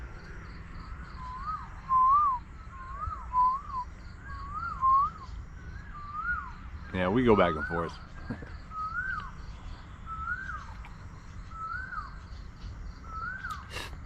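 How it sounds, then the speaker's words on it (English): Birds whistle repeatedly with rising and falling calls in a quiet outdoor setting, a harsher burst of calls breaks in midway, and a person briefly speaks. "must have been 5 different kinds of birds screaming"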